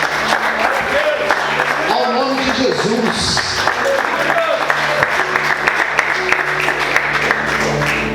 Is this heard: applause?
yes